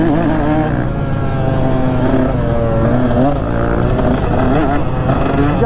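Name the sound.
two-stroke motocross bike engine revving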